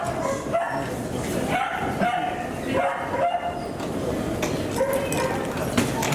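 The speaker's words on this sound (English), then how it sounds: "Dogs are happy. Happy to get out of there." Several dogs bark and yip excitedly in a busy airport baggage claim hall, repeated bursts close by over a noisy indoor background, with people talking nearby.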